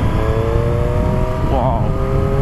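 A Triumph Street Triple S 660 A2 motorcycle engine running loud and close, a steady drone with a sharp blip of revs rising and falling midway before settling back to a rumbling idle.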